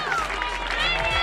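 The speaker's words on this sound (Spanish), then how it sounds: "El aplauso del público para ambas." Crowd at a women's boxing match between Ayelen Granadino and Aixa Adema applauding both fighters, a short wash of clapping and cheering under a commentator's voice, with a low hum beneath.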